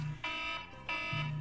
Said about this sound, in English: Forgot about that alarm, right?